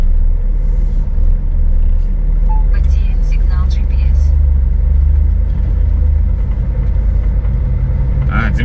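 The engine of a GAZelle van runs with a loud, steady low rumble close by, while people talk over it throughout.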